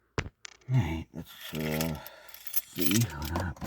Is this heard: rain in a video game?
no